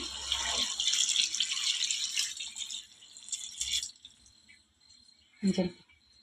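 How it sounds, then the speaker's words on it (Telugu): Water pours into a cooking pot of toor dal for sambar in a splashy stream for a few seconds, then tapers off, followed by a brief clatter. "ఇప్పుడు నీళ్ళు అయితే వేసుకుందాము"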